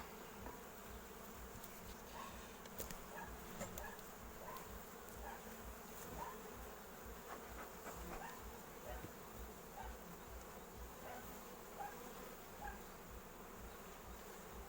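Faint, continuous buzzing of many honey bees around hives, a steady low drone with no voices.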